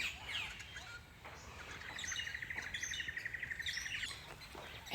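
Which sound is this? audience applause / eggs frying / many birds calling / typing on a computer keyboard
many birds calling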